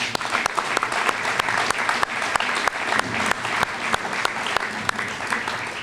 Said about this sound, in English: a large round of applause goes out to every one of you